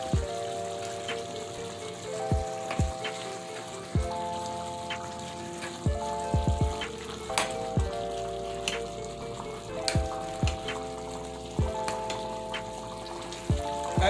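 Okra goes into a pot of fish soup simmering gently for a Jamaican-style dish, with a steady soft bubbling and sizzle, repeated light plops and clinks, and no talking.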